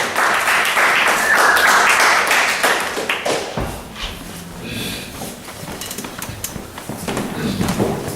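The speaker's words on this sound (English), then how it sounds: "Give him a round of applause when he comes to the stage." Audience at a poetry reading applauds as a poet walks to the stage, a burst of clapping that quickly thins out, followed by scattered thumps and quiet room noise.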